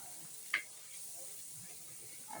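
Spice paste for a hilsa fish and pointed gourd curry frying in a pan, a soft, steady sizzle and hiss at low level with one brief louder clack of stirring near the start.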